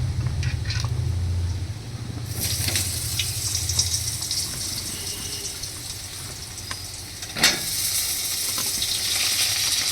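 Potato pieces hit hot oil tempered with cumin and nigella seeds, giving a loud, steady broadband sizzle that swells after a couple of seconds and carries on without a break, with a brief splash or clatter near the end and no talk.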